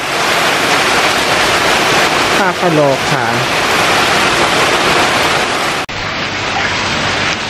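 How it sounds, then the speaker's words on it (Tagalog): Steady heavy rain hisses loudly throughout, with a person briefly speaking over the downpour partway through. "It's raining."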